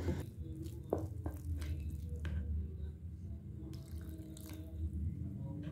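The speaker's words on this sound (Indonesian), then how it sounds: "Tambahin airnya dikit-dikit, jadi biar kita tahu keencerannya udah sampai mana ya." Water trickles and drips in small additions into risole batter as it is mixed, with soft squishy liquid sounds and wet stirring, close and fairly quiet.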